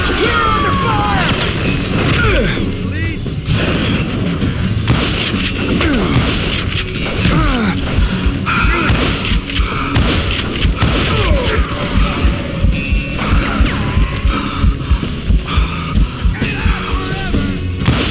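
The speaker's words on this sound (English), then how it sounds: "Who's shooting at us? We're under fire!" Gunfire in the Western shooter Call of Juarez: Gunslinger, a dense, continuous barrage of shots and booms with clattering mechanisms and yelling mixed in, loud and close throughout.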